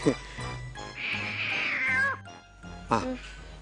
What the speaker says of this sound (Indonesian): Suara kucing kan?